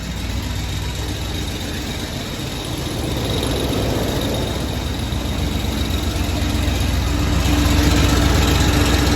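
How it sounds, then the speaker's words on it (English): A 1994 Ford F700 dump truck engine idles with a steady, loud low-frequency rumble and vibration, continuous and close with no revving, gradually swelling slightly in level. "Well, the truck still runs, so that's a plus."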